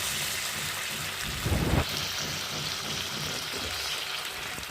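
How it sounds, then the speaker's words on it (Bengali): Hot water poured into a pan of braising meat for kosha mangsho sets off a steady, rain-like bubbling hiss with a short louder splash of pouring near the start, moderately quiet and close. "এই দেখুন গরম জলটা দিয়ে দিচ্ছি"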